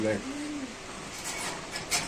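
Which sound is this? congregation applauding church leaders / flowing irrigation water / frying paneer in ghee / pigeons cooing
pigeons cooing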